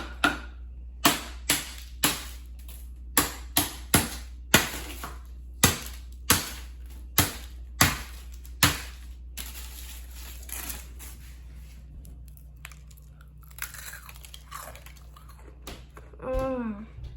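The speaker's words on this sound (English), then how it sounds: "You just need to whack it so that it turns into a beautiful honeycomb" Sheets of honeycomb candy are whacked and broken in a kitchen, a run of sharp, evenly spaced cracking strikes close by that stops, leaving faint rustling and a brief voice.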